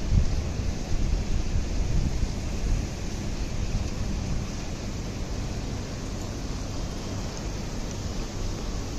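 Steady low rumbling wind buffeting the microphone in rain, stronger at first and then settling into a constant broad roar, in Belagavi, Karnataka.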